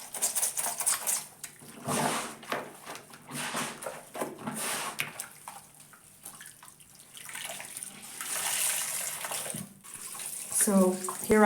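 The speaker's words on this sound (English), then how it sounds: "So here I am adding the clean water now that I've gotten most or almost all of the soap out of it." Clean rinse water runs and splashes into a tub as clothes are hand-washed Jamaican scroops style, a steady broadband gush with sloshing and dips, close and fairly loud throughout, with a brief rattle of handling near the end.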